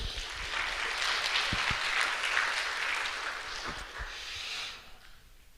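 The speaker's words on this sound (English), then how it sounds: "let's give him a round of applause" Warm audience applause at a higher education AI summit, a dense steady clatter of many hands for several seconds, with a few nearby thumps, fading out toward the end.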